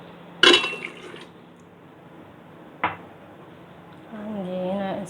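Water poured into a bowl while mixing a birthday cake batter, opening with a sharp clink and a short splashing burst, then a second knock and a rising, gurgling fill near the end.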